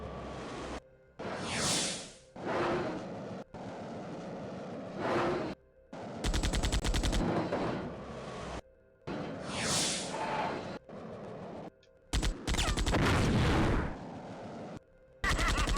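Rapid gunfire in a pod racing video game: loud bursts of automatic shots and whooshing passes, several dense volleys separated by brief gaps, with no talking over them.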